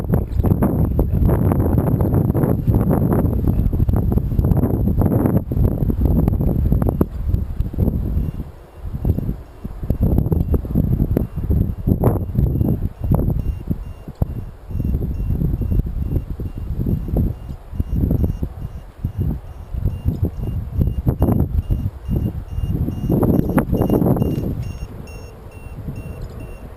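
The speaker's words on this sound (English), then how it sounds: "It's very, very windy" Strong wind buffets and roars across the microphone throughout, gusting unevenly with rumbling surges and brief lulls, and no voices.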